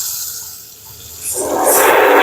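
Hot water running from a tap to rinse a roller shade, starting quietly and swelling into a loud, steady splashing gush over the last second.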